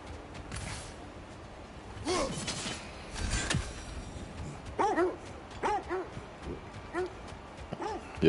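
Dogs in the video game God of War Ragnarok bark and yip in short repeated calls amid game sound effects, fairly close and moderately loud.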